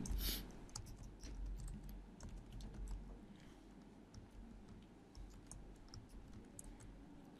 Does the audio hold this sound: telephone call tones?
no